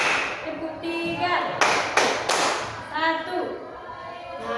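Group clapping in rhythm during a group counseling session, short bursts of several claps in a counted pattern under a voice calling out the counts.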